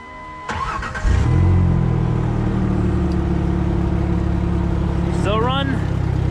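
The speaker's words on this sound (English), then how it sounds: "I'll just start her up for you guys, because everyone loves a good old engine start." A car that has come through a wreck cranks briefly and catches, then settles into a loud, steady idle close to the microphone, with a short voice-like warble near the end.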